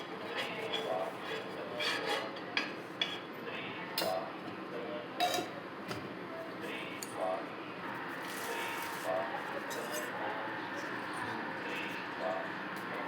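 Pav buns are warmed with a little ghee on a hot tava griddle beside finished pav bhaji, giving soft scraping and rubbing with occasional sharp clinks of a spatula, while someone talks over the cooking.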